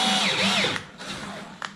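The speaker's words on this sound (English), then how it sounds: "Now we're just going to slowly drill through." A power drill slowly boring through a 1995 Ford Bronco transmission pan, a high whining motor pitch that bends as the bit bites into the metal, then quieter grinding with a brief spike near the end.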